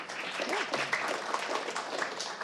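Applause at a city council regular meeting for a youth award finalist, a dense patter of clapping from a modest audience lasting a couple of seconds, moderately loud and steady.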